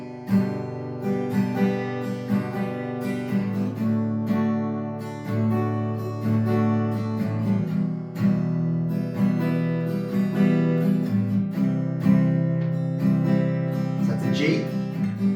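Acoustic guitar strummed through open chords of a song's chorus, a steady full rhythm with ringing sustained chords played alone, with a short bright accent near the end.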